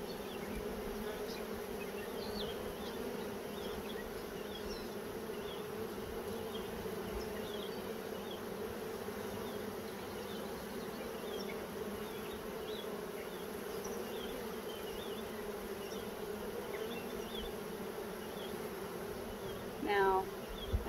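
Honeybees being moved into a Flow Hive hum in a dense, steady buzz throughout, close and continuous, with a single bee flying nearer and louder near the end.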